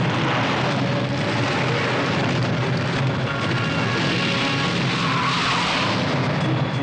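A car skids hard while being whipped around in a hurried turn during an action-movie getaway, a loud, sustained screeching hiss with a faint tonal squeal running through it.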